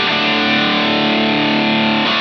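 A sustained, heavily distorted electric guitar tone through an affordable amp modeler rings out loud and steady, then cuts off near the end.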